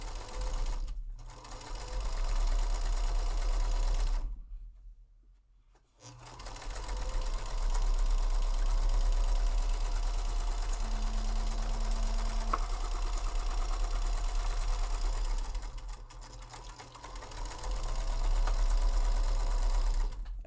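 A sewing machine stitches steadily at close range in a continuous mechanical whir, pausing twice briefly as the fabric is adjusted, with no talking.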